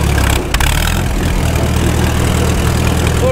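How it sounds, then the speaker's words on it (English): A Caterpillar Ten crawler tractor, just started after long storage, runs steadily in first gear after the clutch is let out. The low engine chugs loudly and evenly throughout, with a brief dip near the start. "Give it some throttle. Release the clutch."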